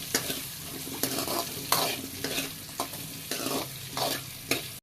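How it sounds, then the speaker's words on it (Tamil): Onions fry in a pan for a home-style fish curry while a spoon stirs them, a steady sizzle broken by about eight rhythmic scraping strokes, close and clear with no voices. "கட் பண்ணி சேர்த்துட்டு இந்த மாதிரி லைட்டாக கிளறி விட்டுக்கோங்க."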